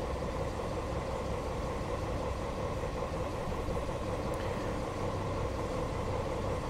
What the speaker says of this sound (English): I forgot how nice the 175 sounded actually